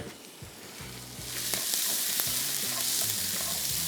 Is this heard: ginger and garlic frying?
yes